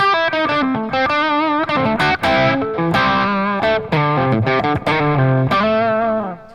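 An electric guitar plays a melodic line through a REVV D40 amp with delay from a Line 6 HX Stomp, distorted notes ringing out with repeating echoes trailing behind each phrase.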